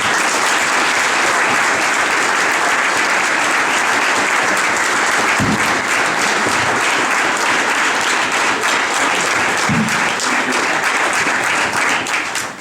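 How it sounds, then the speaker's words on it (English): Sustained audience applause at an evening dinner during a Rock & Roll Marathon event in St. Louis, honoring Paul Barra; dense, loud, steady clapping fills the room throughout with a couple of low thumps. "let's have a round of applause for Mr."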